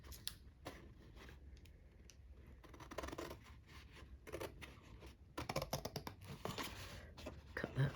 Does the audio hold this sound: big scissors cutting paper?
yes